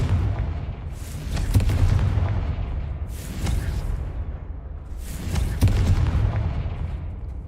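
Confringo fire spell explosions in Hogwarts Legacy, three booming blasts with rumbling tails spaced a couple of seconds apart, loud and close.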